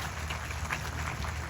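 Applause from an audience at a housing society's annual general meeting, a dense, steady wash of many hands clapping throughout, with no talk over it.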